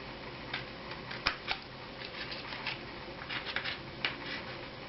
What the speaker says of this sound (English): Just snip those corners off